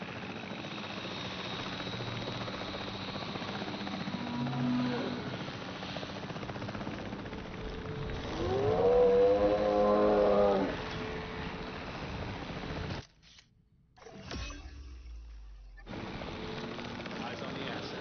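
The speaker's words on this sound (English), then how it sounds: "Let's just pull out the helicopter." A helicopter in the video game Jurassic World Evolution 3 gives off a steady droning whir that swells midway with a rising whine, cuts out briefly near the end, then returns, while voices talk over it.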